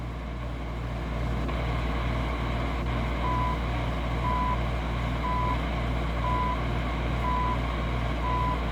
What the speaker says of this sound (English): That sounds like WWV.